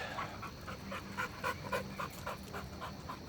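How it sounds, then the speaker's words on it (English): A dog pants in quick, steady breaths throughout, fairly faint and close, with a few soft whimpering tones underneath and no talking. "Oh, here comes the other dog."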